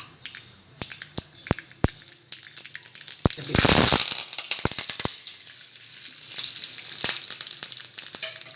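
Mustard seeds tempering in hot oil for a dosa chutney crackle and pop in sharp, scattered bursts, close and loud, with a dense spluttering flurry in the middle before thinning out again.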